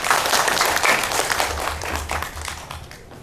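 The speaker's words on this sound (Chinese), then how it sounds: "各位大家掌声鼓励他一下" An audience at a kidney-health lecture bursts into dense, continuous applause that stays loud for a few seconds, then tapers off toward the end.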